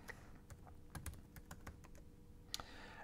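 Keys tapped on a computer keyboard to enter a web address, a faint, irregular patter of close keystrokes with a few sharper clicks and no talking.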